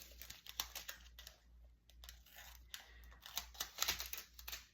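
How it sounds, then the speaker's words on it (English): Scissors snip through paper in quiet, close, irregular bursts of crisp cuts and light rustling. "I'm just cutting these up, sorry. If you're wondering what I'm doing with scissors,"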